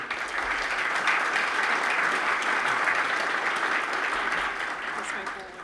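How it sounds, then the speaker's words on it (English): At the Southern Vermont Economy Summit keynote, the audience gives a full, even round of applause, many hands clapping steadily for several seconds before it eases off near the end. "I think a round of applause for Meg again is more than appropriate."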